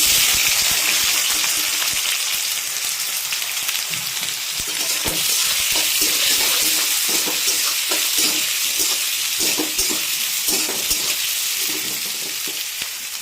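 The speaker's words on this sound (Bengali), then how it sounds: "তেলটা কিন্তু গরম হয়ে গেছে, আর দিয়ে দিচ্ছি জিরে, আর দিয়ে দিচ্ছি এবারে পেঁয়াজ" Cumin seeds and thinly sliced onions fried in hot oil over a high flame, a loud, dense, continuous sizzle close by with crackling bursts and occasional stirring, no talking.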